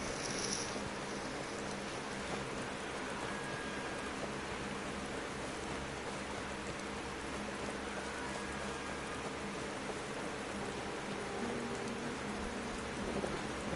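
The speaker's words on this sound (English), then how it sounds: "Oh, and it's raining." Rain falls in the video game Skyrim, heard as a steady, dense hiss of rainfall with a low rumble of thunder underneath throughout, and no voices.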